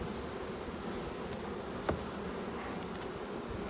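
Honeybees around an open hive make a close, steady buzz. The hive is recovering from a disease. The drone holds constant and gets one brief louder tick partway through.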